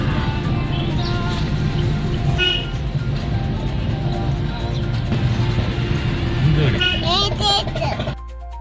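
Busy market road on the way to the Ooty boat house, dense with vehicles: a steady traffic din with engine rumble and scattered horn toots throughout, sharper squeaks near the end, with voices mixed into the noise.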